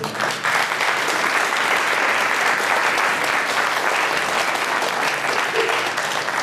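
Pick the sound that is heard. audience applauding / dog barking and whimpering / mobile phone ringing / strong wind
audience applauding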